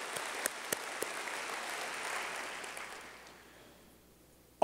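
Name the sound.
audience applause for the transit board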